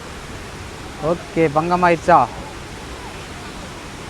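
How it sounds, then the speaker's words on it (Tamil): Athirappilly waterfall in Kerala sends up a steady, dense roar of rushing water throughout, with a few seconds of nearby talking in the middle. "இதுதான் வந்துட்டு அதரப்பள்ளி ஃபால்ஸ்."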